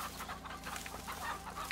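Chickens clucking in the video game A Way Out, a busy, continuous farmyard chatter of several birds close by, with small squawks and pants running through the whole moment and no talking over it.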